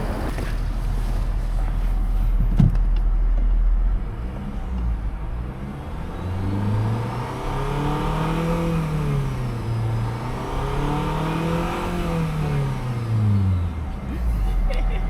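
A Honda Prelude engine with stock exhaust and front pipe revs up and down repeatedly in rising and falling sweeps, fairly muted, with wind noise buffeting the microphone throughout.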